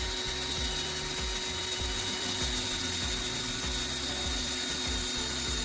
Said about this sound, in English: Let's try drilling into the metal again.